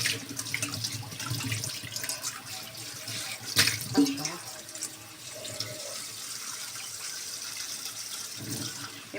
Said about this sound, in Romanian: Și punem apă să treacă peste